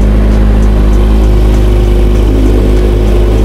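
A Kawasaki ZX25RR fitted with a Yoshimura R77 carbon exhaust idles steadily at close range, a loud, continuous low engine drone with no revving and no voices.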